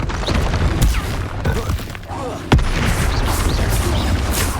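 Explosive Bombarda and Confringo spells going off in Hogwarts Legacy combat, with a couple of sharp, loud booming impacts rising out of a dense, continuous rumble of battle noise.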